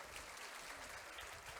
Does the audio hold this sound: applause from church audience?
yes